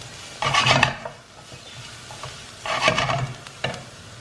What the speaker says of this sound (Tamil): இந்த கோகோனட்டை வந்து நம்ம இந்த எண்ணெயில் ஒரு 30 seconds வந்து ஃப்ரை பண்ண போகிறோம்